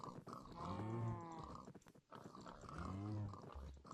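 Pigs on a farm in the video game Minecraft give two drawn-out, tonal grunting squeals, one after the other with a short gap, heard clearly and alone without any talk.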